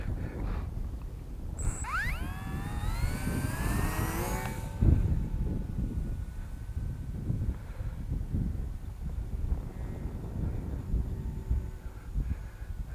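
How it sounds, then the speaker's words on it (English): A small electric RC model plane, a FPV bird-style Lidl kit on its maiden flight, its motor whining and rising in pitch, then fading into a distant buzz beneath steady wind noise outdoors. "I'm going to concentrate on flying the plane"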